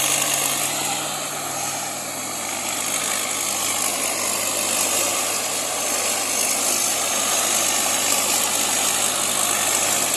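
A combine harvester's engine runs at a steady, loud idle in a rice field, a continuous rumbling drone with a broad hissing wash on top and no pauses.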